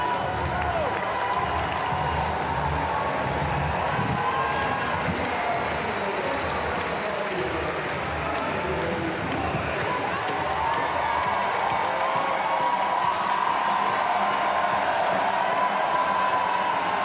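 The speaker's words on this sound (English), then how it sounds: "Fabio Torres milking the applause. He wants it louder." An arena crowd at an Olympic weightlifting event at the Porte de la Chapelle Arena claps and cheers continuously, a dense sustained wash of applause that swells slightly toward the end, with a commentator talking over it.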